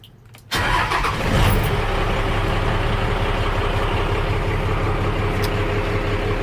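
Pickup truck with a Detroit 6.5L diesel engine: after a brief quiet moment the engine cranks and catches within a second, then settles into a steady, close, loud diesel idle that runs unchanged to the end.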